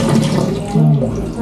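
Tap water runs steadily in a bathroom, a loud, close, continuous splashing rush, with brief speech-like tones over it.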